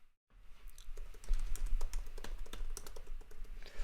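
Fast keystrokes clatter on a computer keyboard while local React app code is written, a close, quiet run of clicky taps after a brief silent start.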